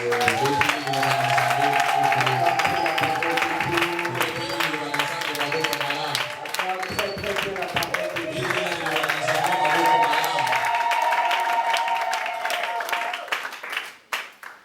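Congregation clapping at an Easter church celebration, sustained applause mixed with singing voices and music that fades out near the end.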